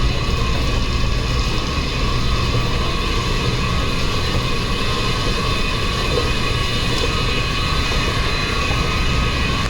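Loud, steady mechanical drone with a tonal hum fills a metro station in the United States, constant throughout like a train or station machinery up close, with no voices.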